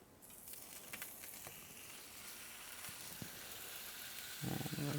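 Rainbow trout sizzling in a pan, a steady faint hiss of frying with a few small pops and crackles, and a brief louder clatter at the end.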